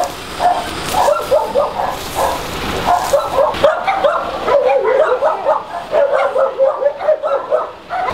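Many dogs barking and yipping at an animal shelter in Salgótarján, Hungary, a dense, continuous chorus of overlapping barks, close and loud throughout.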